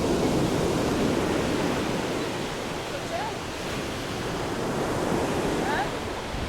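Sea waves wash onto a pebble beach at Salobreña in Andalusia, making a continuous broad rushing roar mixed with wind buffeting the microphone.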